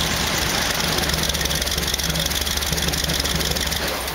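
A steady, low engine idle drones on without change, with a faint broadband hiss on top and no voices.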